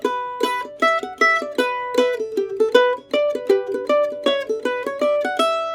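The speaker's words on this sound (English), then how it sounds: "another big issue I find in a lot of mandolin players' right hands is that they'll over accent the downstrokes" A mandolin plays a swung eighth-note line with heavily accented downstrokes and nearly lost upstrokes, producing a loud, close, uneven pick-driven pulse of bright plucked notes with no talking.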